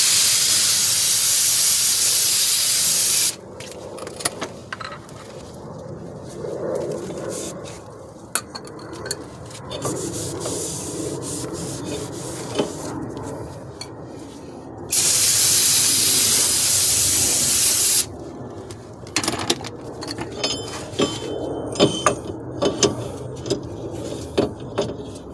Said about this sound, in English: Get all the grease off the backside with a little brake cleaner